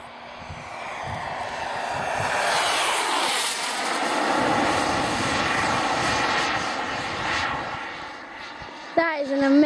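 Loud whining roar of an RC turbine jet model shuttle flying overhead, swelling and fading steadily as it passes, with people talking over it and a sharp knock near the end.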